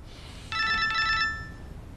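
A telephone rings in one short burst of trilling bell tones that starts sharply and rings out after about a second, over a quiet, hushed room.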